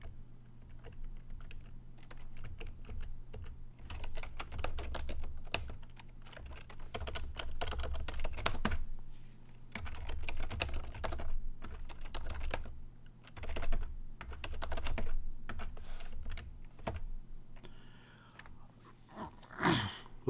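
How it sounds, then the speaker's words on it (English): Computer keyboard keys clatter steadily as commands are typed into Space Quest II, a text parser game. The keystrokes are close and irregular, in bursts with short pauses, and continue for about twenty seconds without speech. "this is a text parser based game where you type commands, and I'm also using the keyboard"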